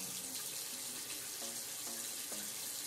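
A faucet runs steadily into a sink, wetting a black curly wig, a continuous close, even rush of water with no talk.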